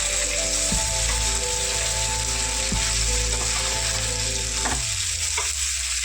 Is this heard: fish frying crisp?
yes